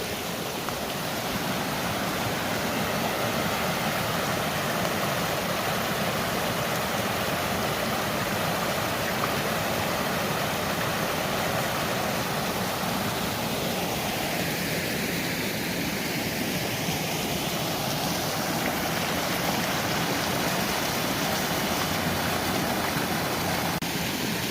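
Waterfall and stream pouring beside an 1800s water-powered chestnut medicine mill, a loud, continuous rushing roar that stays steady for over twenty seconds with a faint passing whoosh midway and no talking.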